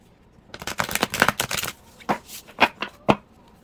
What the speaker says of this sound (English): I'm going to have to shuffle again